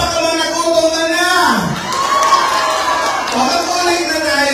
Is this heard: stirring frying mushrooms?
no